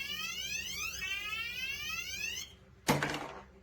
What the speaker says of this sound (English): This is a high water, low water alarm system.